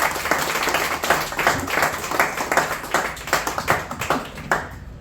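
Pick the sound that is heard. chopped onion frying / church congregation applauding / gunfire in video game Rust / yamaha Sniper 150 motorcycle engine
church congregation applauding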